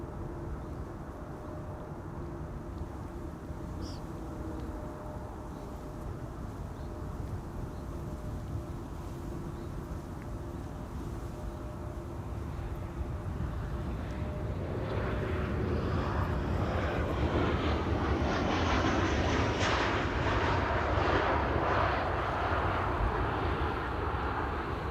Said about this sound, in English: another narrow body is approaching runway 27 over here. That's KLM Flight 1406 arriving from Paris